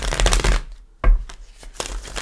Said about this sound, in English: Let me give it a couple shuffles.